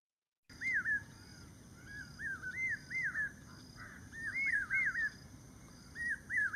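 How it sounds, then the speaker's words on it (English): Common hawk cuckoo calling in a city backyard in Pune, a series of repeated rising, whistled notes in short bursts, fairly clear against quiet background. "Let's see how this common hawk cuckoo tells us about the arrivals of rains."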